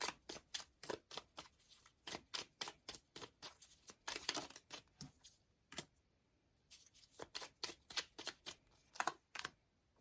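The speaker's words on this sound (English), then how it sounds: "I'm going to get the cards out and then we'll go ahead and interpret them." Tarot cards being shuffled and handled at close range, a steady run of quick, crisp riffling snaps with a short pause partway through, then resuming, with no one talking.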